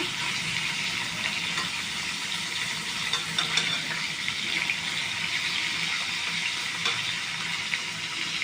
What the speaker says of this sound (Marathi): आता आपण हे परतून घेऊया।